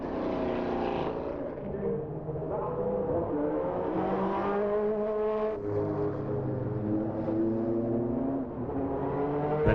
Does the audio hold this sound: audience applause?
no